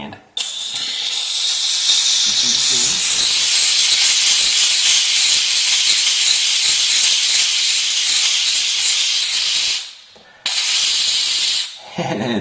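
Pressurized multi-purpose steam cleaner with a grout attachment jetting onto a crayon-marked tub mat, a loud continuous hiss that cuts out briefly twice near the end.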